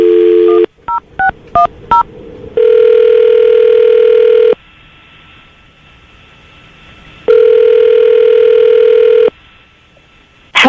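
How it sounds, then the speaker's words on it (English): A quick series of touch-tone beeps from a keypad, then two long, loud ringback tones separated by a pause, heard plainly with no voices. "I'm going to dial the phone number right now, see if we can get her on the phone."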